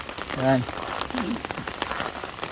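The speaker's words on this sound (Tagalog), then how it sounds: "sobrang lakas po ng ulan ngayon" Heavy, steady rain pours throughout during an all-day downpour while a team walks in soaked shoes; a voice speaks briefly near the start over the constant wash of falling water.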